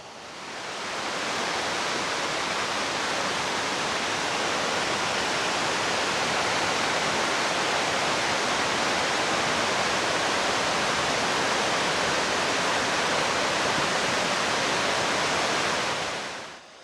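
A waterfall on a river below a dam in the northern Georgia mountains roars as a loud, steady, broadband rush, continuous throughout with no voices.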